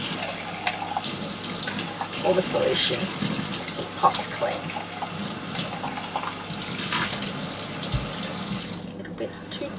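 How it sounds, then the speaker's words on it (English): Warm water runs from a sink tap to rinse out a spray gun pot, a continuous splashing gush with occasional clinks while a person talks over it. "use quite warm running water just to rinse"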